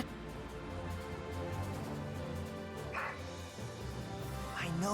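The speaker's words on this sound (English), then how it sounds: "I know that bark. It's Rags" Rags, a dog in the Valkyria Chronicles 4 video game, gives a couple of short barks partly buried under dense game music and battle sounds.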